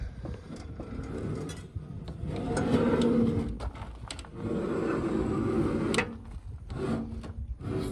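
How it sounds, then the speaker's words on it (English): Lippert solid steel RV steps rub and scrape while being shifted during installation, a close, rough grinding that swells and fades in long strokes with brief knocks between. "I can hear that kind of rubbing."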